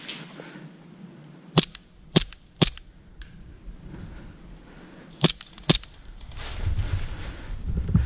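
Airsoft guns snap in a handful of sharp, separate shots during an outdoor game, spaced irregularly over a quiet background with light rustling toward the end.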